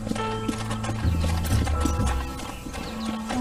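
Horse hooves clip-clop steadily in Red Dead Redemption on PS3, with a horse snorting or whinnying over a low sustained musical drone, continuous and fairly close.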